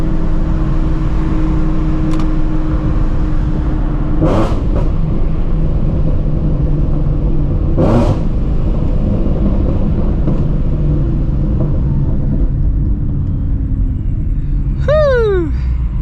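A supercharged Shelby GT350 rumbles loudly and continuously from close behind the exhaust. Sharp revs rise at intervals, and a rapid whining sweep comes near the end.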